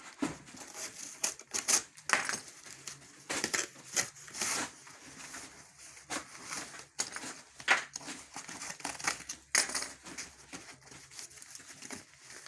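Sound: folding and bending excess cardboard while packaging glass

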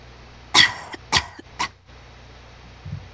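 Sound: pony coughing in the darkness, audio drama effect

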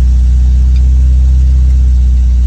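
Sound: car engine revving with accelerator held, turbo car

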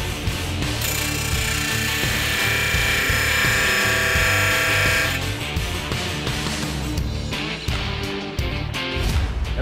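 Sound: drilling a rear end housing

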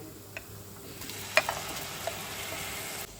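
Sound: small shrimp pieces added to frying spice masala

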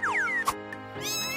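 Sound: cat meowing

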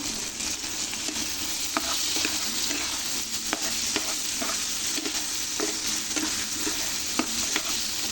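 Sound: sautéing fish curry with culantro in a pan

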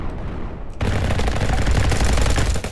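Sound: gunfire in a Roblox Call of Duty-style video game

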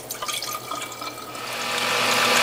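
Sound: French sorrel juice poured from a beaker into a bottle

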